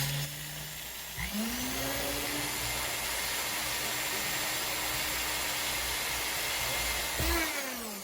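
A power drill bores pilot holes while a heavy-duty dual monitor arm is being mounted. The motor whirs up, holds a steady moderate whine for several seconds, then briefly stops and spins up again.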